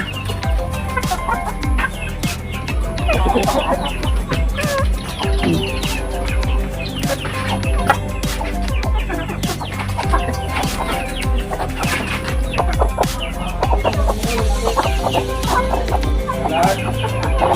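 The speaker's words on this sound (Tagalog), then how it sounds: "Ayan, mga manok nanay" Flock of village chickens clucking steadily while being fed on a rural farm, with busy overlapping calls and scratching close by and occasional faint chirps in the background.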